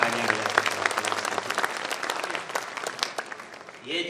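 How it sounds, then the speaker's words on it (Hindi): Audience applause at a Hindi comedy poetry gathering (hasya kavi sammelan), a dense crowd clapping steadily for about four seconds, fading slightly toward the end before a brief swell. "हाथ उठाकर तालियां बजा करके"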